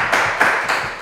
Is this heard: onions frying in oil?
no